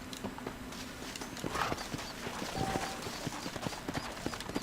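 Horse hooves clip-clop in Red Dead Redemption, a steady run of light, fairly close hoofbeats over a busy game backdrop with a faint whinny-like tone.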